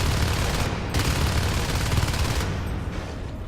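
Rapid automatic gunfire rattles almost continuously as players shoot the Pipeline Harvester in a video game, loud and close, broken by a short gap in the bursts.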